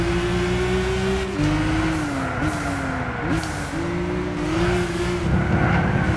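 Race car engine in Gran Turismo 6, revving high and loud through repeated gear shifts with rising and dipping pitch as it accelerates, continuous and close.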